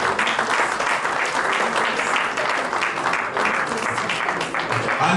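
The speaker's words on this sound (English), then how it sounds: "Please give me a round of applause." An audience at a branch chairman and executive committee investiture applauds in a steady, dense wash of clapping that holds at even loudness for several seconds, with faint voices beneath.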